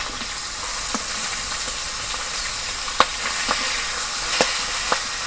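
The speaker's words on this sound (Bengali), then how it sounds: "এক পিঠ মাছ ভাজা হয়েছে আর এক পিঠ ভাজবার নিকে উল্টে দিই।" Pangas fish fries in plenty of hot oil, giving a steady, loud sizzle close by with a handful of sharp pops and crackles scattered through it.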